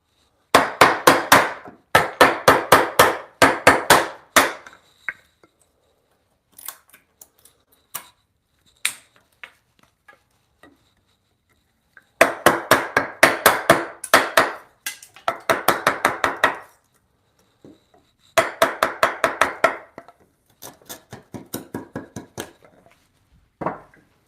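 A hand chisel pares timber for a corner brace joint in a timber bunk bed build, giving close bursts of rapid scraping, tapping strokes separated by short pauses and a few isolated knocks, with no talking.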